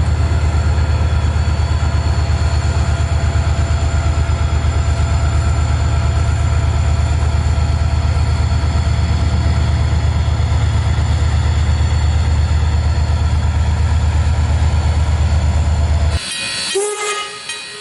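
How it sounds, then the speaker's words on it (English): Diesel train motors running hard at night, a loud continuous low rumble with steady mechanical tones that holds for about sixteen seconds before cutting to a different, quieter sound. "Some folk really like the sound of diesel motors revving up at night."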